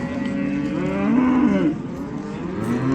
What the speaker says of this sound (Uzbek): Eston sigirimiz bor ekan akalar.